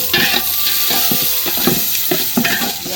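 Onion paste drops into hot oil and fries with a dense, loud sizzle, broken by a quick series of rhythmic scraping stirs close up.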